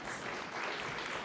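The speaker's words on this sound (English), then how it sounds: "Sir, can we have a huge round of applause?" Conference audience applauding ahead of a welcome address, a brief, dense burst of clapping heard at moderate distance.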